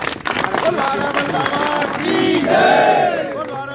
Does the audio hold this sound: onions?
no